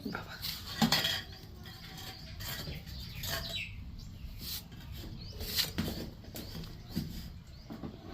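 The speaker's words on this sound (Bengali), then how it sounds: "এই যে বাবা কচুটাকে সুন্দর করে কেটে নিচ্ছে।" Taro being cut with a knife, a series of irregular crisp knife strokes and small clinks against a board, close by over faint background hiss, without talk.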